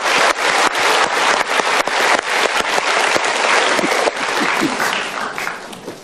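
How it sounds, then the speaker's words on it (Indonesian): A studio audience on an Indonesian motivational talk show breaks into loud, sustained applause, a thick wall of overlapping claps that runs throughout and tapers slightly toward the end. "Oke, kita berikan tepuk tangan."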